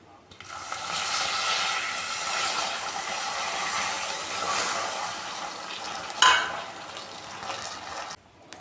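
Milk goes into a hot pan for a sweet dish, making a loud continuous hissing sizzle up close that holds steady, with one sharp clank near the end before it cuts off.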